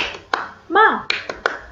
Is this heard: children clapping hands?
yes